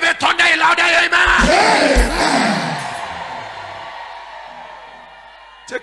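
A church congregation at a midnight prayer service shouts back loudly in unison, a roaring burst of yells and cheers that slowly fades away into near quiet, with one brief sound rising again at the end.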